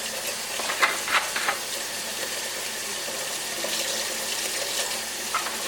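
Tap water runs steadily into a sink bowl of blueberries soaking in white distilled vinegar, a continuous close splashing hiss with a few brief louder spatters and no talking.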